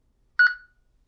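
A single short electronic beep sounds from a PROWLTOUCH alarm keypad as a button is pressed, clear and close, with silence before and after.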